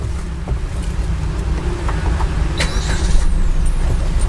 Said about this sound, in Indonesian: Sekarang kita nyalakan engine-nya.